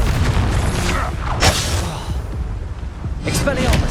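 A Confringo fire spell in Hogwarts Legacy bursts in a loud booming blast amid dense combat noise, followed by another whooshing burst a couple of seconds later, with talk over the action.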